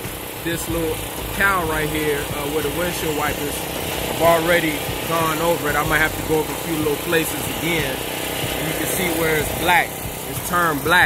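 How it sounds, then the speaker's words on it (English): A generator runs nearby, its steady engine drone and rattle continuing beneath someone talking close by. "I'm sorry you have to excuse the noise because I'm running the generator"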